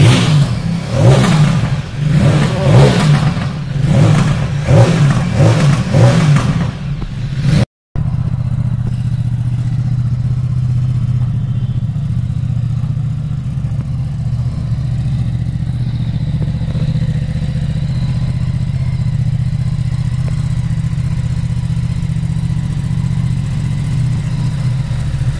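Several superbike engines rev loudly and rhythmically up close in Raipur, Chhattisgarh, then cut off abruptly, leaving a steady low idle rumble.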